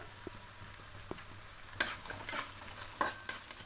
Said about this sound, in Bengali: এটা একটু ভেজে নেবো হালকা করে লাল লাল করে একটু বাদাম দিয়ে দেবো